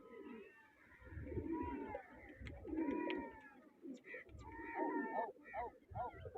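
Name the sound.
pigeons cooing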